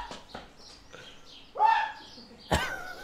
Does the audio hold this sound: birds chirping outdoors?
yes